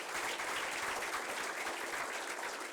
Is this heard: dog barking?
no